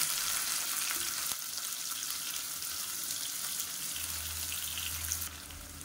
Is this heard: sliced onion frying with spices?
yes